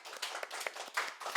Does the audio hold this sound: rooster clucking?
no